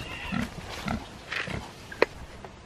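Pigs covered in mud on a warm day give a few short, soft grunts at spaced intervals, followed by a brief sharp knock.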